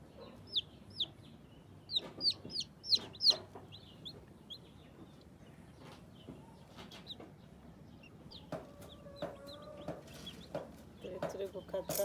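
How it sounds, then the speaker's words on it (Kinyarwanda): Black chickens cluck and squawk nearby in scattered bursts, some sharp and close, with quieter clucking between them and someone talking briefly. "abantu bashaka ku nkoko z'umukara, urabona ko nazivukishije ku bwinshi."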